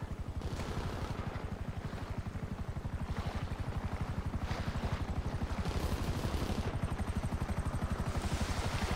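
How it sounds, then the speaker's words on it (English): A helicopter in GTA V Online thumps with steady, rapid rotor beats throughout, fairly loud and continuous, with faint gunfire-like clatter mixed in. "And another chopper."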